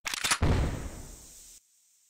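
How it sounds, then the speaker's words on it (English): A smoke grenade in a CrossFire competitive match on the Compound map gives a few quick pops and then a burst of hiss that decays over about a second before cutting off. "Smoking grenade! Smoking grenade!"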